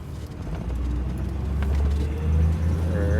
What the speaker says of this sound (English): We're actually shifting, and shifting smoothly.